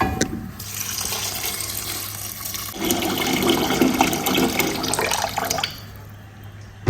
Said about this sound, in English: I'll go ahead and add water.